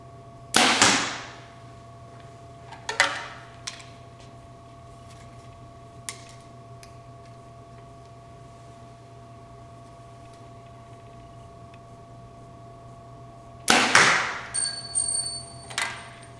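A Hoyt Charger compound bow is shot on an indoor range, several sharp thwacks of arrows released and striking spread across the clip, with long quiet gaps and a faint steady hum in the background.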